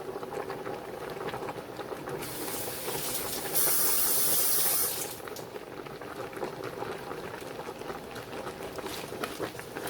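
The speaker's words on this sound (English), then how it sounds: "I got it started boiling on high" Collard greens boiling on high heat in a pot, a steady bubbling hiss with a brief louder burst of steam in the middle, close and continuous.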